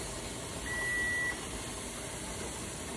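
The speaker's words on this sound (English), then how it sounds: "Our timer went off." A kitchen timer gives one thin, steady electronic beep lasting under a second, set against a constant background hiss from a pressure canner cooking chicken-feet broth.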